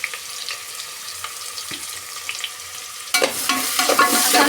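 Chopped onions and curry leaves drop into hot tempering oil, starting as faint crackles and then bursting into a loud, steady sizzle with stirring close by.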